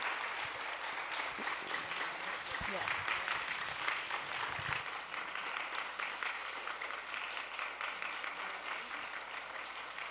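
Applause from an audience at a talk on reproductive justice with a guest speaker, a steady dense patter lasting around ten seconds, shifting in tone partway through, with faint voices mixed in.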